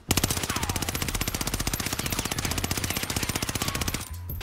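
The AS44 rifle in the Warzone video game fires one rapid, evenly spaced burst of loud, close automatic shots lasting about four seconds before stopping abruptly.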